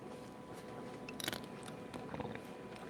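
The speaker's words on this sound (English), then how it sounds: "she can hear me chewing" Someone eats fried crab close to the microphone, with crunchy bites and moist chewing repeating in uneven bursts over a steady low background hum.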